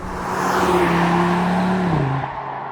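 An Audi RS3's five-cylinder engine drones loudly and steadily nearby, then the pitch drops sharply as the revs fall off near the end.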